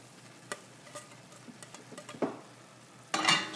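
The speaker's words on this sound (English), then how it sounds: "So first we'll add the quinoa into the beef mixture." Quinoa is stirred into cooked beef in a pan: sparse spoon taps and short scrapes over a faint sizzle, ending in a louder, longer scraping stir.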